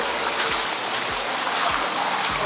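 Steady, loud rushing water fills the air as a waterfall and stream roar continuously in the rocky Tukad Cepung gorge on Bali, with no voices.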